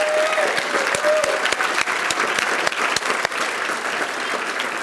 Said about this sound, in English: let's do one more round of applause for all of our winners this evening